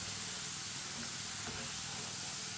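Potato chips deep-frying in clean oil while a spoon stirs them, giving a steady, even sizzle and hiss throughout at moderate, close volume.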